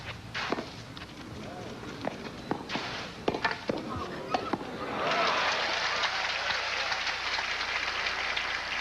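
Tennis crowd at a 1986 Steffi Graf vs. Claudia Kohde-Kilsch match breaking into broad applause midway, following scattered thuds and court sounds, with a commentator talking over it.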